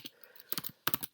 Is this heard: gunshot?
no